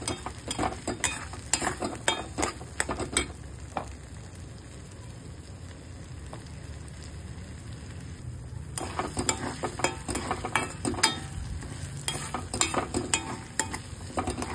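Spinach sautéing in oil in a pan for palak paneer, a continuous close sizzle broken by scraping and stirring clatter, which goes quieter for a few seconds in the middle before the stirring resumes.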